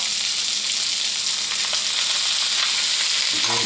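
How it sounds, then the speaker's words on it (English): Onions, celery and green peppers saute in a hot pan with garlic, giving a steady, loud sizzle that runs the whole time with faint scraping near the end. "We'll saute that for a short time, just until things get translucent."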